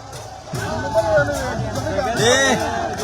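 Spectators celebrate a winning boat in a river boat race on the Kushiyara at Moulvibazar. Many voices cheer and shout together in a loud, continuous babble.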